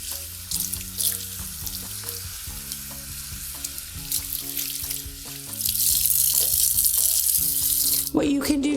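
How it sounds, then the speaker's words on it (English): Tap water running over a human hair topper in a sink to rinse out shampoo, a steady hissing stream with shifting splashes that grows louder and fuller partway through, with a tonal musical bed underneath. "I'm going to rinse the topper directly under the faucet to remove the majority"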